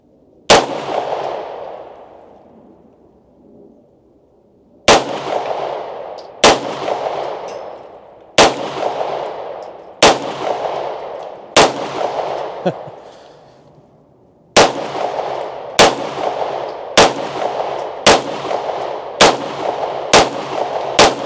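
Pistol shots ring out at trash targets outdoors: loud, sharp cracks with echoing tails, first spaced several seconds apart, then coming in a quicker run of about eight evenly paced shots near the end.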